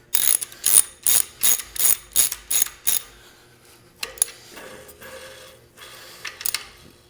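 A hand ratchet fitted with a 13mm socket tightens the bolt on a Saturn engine pulley, giving about eight quick, sharp clicking strokes up close, followed by a few quieter clicks and faint handling noise.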